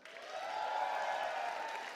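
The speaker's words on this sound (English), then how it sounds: "one more round of applause" An awards-ceremony crowd breaks into a short round of applause, a smooth swelling wash of clapping that rises quickly and holds, somewhat distant and soft, with no talk.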